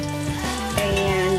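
Potatoes frying in hot coconut oil in a well-seasoned pan give a close, steady sizzle with faint tonal ringing throughout.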